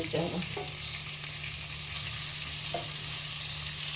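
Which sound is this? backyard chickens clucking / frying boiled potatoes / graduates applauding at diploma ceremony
frying boiled potatoes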